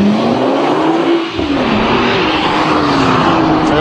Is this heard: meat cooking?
no